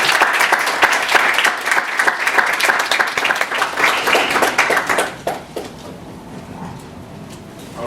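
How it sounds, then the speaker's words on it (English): Audience applause for a visiting fellow speaker, a lively burst of many hands clapping close by for about five seconds, then dropping off to quiet room sound. "let's give him a big round of applause"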